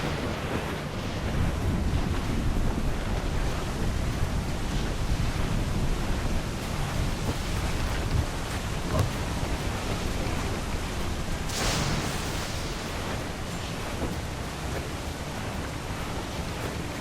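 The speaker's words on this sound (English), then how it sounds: "Storm captain, looks bad!" A storm at sea in the pirate game Assassin's Creed 4 Black Flag: roaring wind and crashing waves form a loud, dense, continuous wash, with a brief louder gust near the end and no talk.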